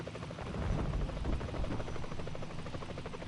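Helicopter in the War Thunder video game, a steady chopping rotor thump with a buzzing engine drone underneath, continuous and fairly loud, with no talk over it.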